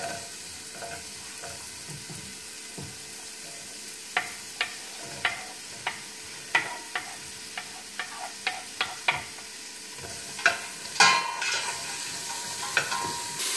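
Carrots and celery sautéing in olive oil with minced garlic in a soup pot, a steady soft sizzle broken by a dozen or so sharp clinks and scrapes of a stirring utensil, close and alone.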